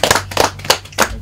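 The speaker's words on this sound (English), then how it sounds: "clap for yourself" A school sports quiz audience claps in short, uneven bursts, a brief patter of hands close by with slight gaps between rounds.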